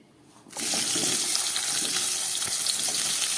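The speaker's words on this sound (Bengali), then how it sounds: "এই তেলের মধ্যে আমি সমস্ত সবজিগুলোকে ভেজে নিচ্ছি।" Vegetables frying in a mix of mustard oil and white oil: after a quiet moment a loud, continuous hissing sizzle starts abruptly and holds steady, close and alone.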